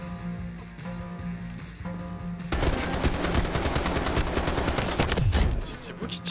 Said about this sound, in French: C'est vous qui tirez là?